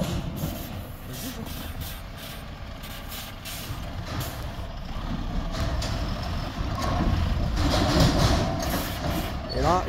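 A truck hauling livestock on rough rocky ground, a steady heavy engine rumble with hissing air-brake releases and faint beeping, while someone talks over it close by.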